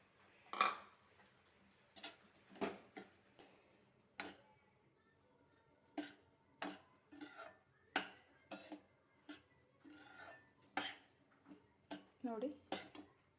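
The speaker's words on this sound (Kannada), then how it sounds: "ಈಗ ಇದನ್ನು ಸ್ವಲ್ಪ ಬಾಂಬೆ ರವೆ ಹಾಕ್ಕೊತಾ ಇದ್ದೀನಿ" A spoon scrapes and knocks repeatedly in a pan while Bombay rava is stirred, in short, irregular metallic bursts over a quiet background, with a voice talking at times.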